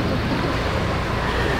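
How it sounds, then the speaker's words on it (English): Steady broadband rush of ocean water streaming past a sailing boat's hull on an open-sea passage from Australia to New Caledonia, continuous and close with wind noise mixed in, no talk. "Water passing by the hull."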